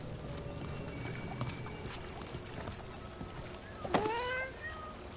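A cat meows once, clear and fairly close, in the Dragon Age: The Veilguard video game, set over a busy ambient background of game sounds with hoofbeat-like clopping.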